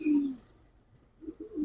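Old-breed homing pigeons give a couple of low, throaty coos close by, one at the start and another near the end with a quieter gap between.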